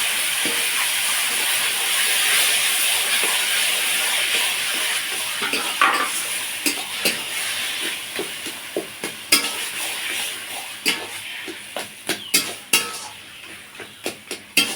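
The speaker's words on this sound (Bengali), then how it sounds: "মাঝে মাঝে এরকম হালকা হাতে নেড়ে দেব যাতে না নিচে লেগে যায়।" Boiled, drained taro greens cook with chilli powder in a sizzling pan. A steady hiss softens into a string of light spatula scrapes and taps against the pan, close and with no voices.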